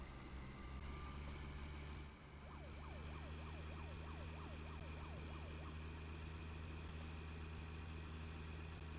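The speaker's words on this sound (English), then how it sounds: "I heard sirens" Police sirens in a GTA-style video game, a steady wailing siren sweeping up and down continuously over a low rumbling engine drone, moderately distant, with no talking.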